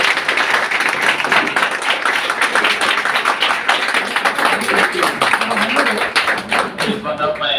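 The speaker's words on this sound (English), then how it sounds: "Let's applaud him." Dense, continuous clapping from a room full of people, celebrating a student placed as a Java full stack developer, holds steady and loud throughout, with a voice briefly heard near the end.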